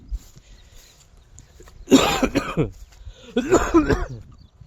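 Two harsh, hoarse coughs from a cold, close up, the second after a short pause, with quiet background between them.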